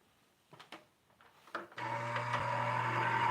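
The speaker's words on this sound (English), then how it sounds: "we're going to die cut that, and we'll have our slit marked." A die cut machine cutting a slit into card gives a few scattered clicks and handling knocks, then its motor starts and runs as a steady mechanical whir that grows slightly louder, close by, with no voices.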